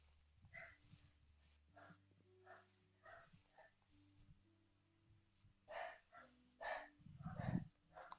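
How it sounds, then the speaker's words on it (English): Several dogs bark in short bursts, some distant and some close, becoming louder and more frequent toward the end, against a quiet background, heard during House Flipper gameplay. "And now my dogs are barking."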